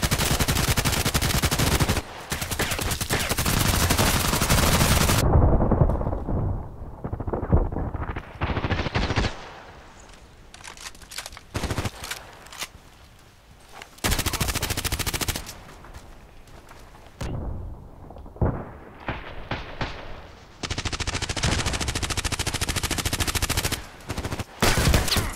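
HK USP pistol fire in the shooter game Contract Wars, loud sharp shots in repeated bursts and rapid strings separated by short quiet gaps, with in-game action around them.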